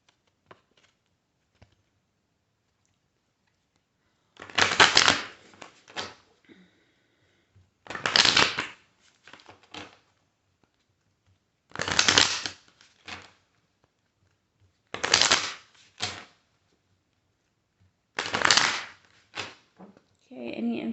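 A Messages of Love Oracle card deck is shuffled in five separate loud riffling bursts, each a couple of seconds long and spaced a few seconds apart, close and clear against near silence.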